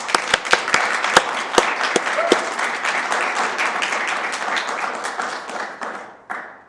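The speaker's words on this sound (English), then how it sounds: "a round of applause for them" An audience at a magazine debut event breaks into applause, a few sharp early claps swelling into dense, sustained clapping that fades toward the end before a final clap.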